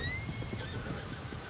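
Horse in Red Dead Redemption 2 giving a faint, high whinny over a low rumbling background, with soft hoof-like thumps underneath.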